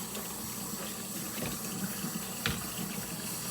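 A kitchen tap runs steadily while hands are washed, a continuous close rush of water with small splashes and knocks at the sink, no talking.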